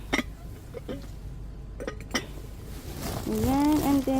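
Metal pot, lid and spoons handled while sorting through a dumpster, a few scattered clinks and clanks, then a sustained ringing metallic tone as the pot resonates, close by.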